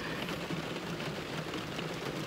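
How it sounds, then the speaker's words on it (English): Rain falls steadily on a parked car, a dense, even patter of drops drumming on the roof and glass, continuous and close with no voices. "it is raining"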